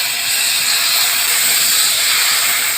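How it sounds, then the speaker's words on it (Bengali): Batter hits a little hot oil in a kadai and sizzles, a loud, steady frying hiss with no talk, while a pancake-style sweet is being made. "এখন আমি কড়াতে তেল দিয়ে দিয়েছি অল্প করে। এখন আমি এই ব্যাটারটা দিয়ে দেব।"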